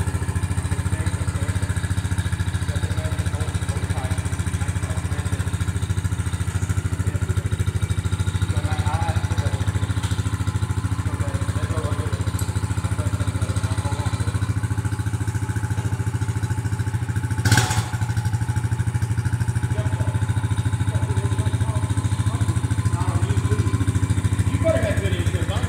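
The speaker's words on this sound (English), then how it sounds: "My cousin's going for his first ride on the new four-wheeler that he's gonna have." A Honda Ranger four-wheeler engine drones steadily and loudly through a ride in the rain, its low rumble holding nearly constant, with one brief sharp knock partway through.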